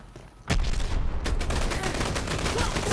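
Sudden loud gunfire in the first-person shooter game Dirty Bomb erupts after a quiet moment, then continues as a dense, sustained burst of close shots and impacts.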